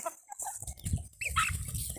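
Chickens and a rooster cluck on a small farm, brief close clucks and calls scattered over two seconds against faint yard noise.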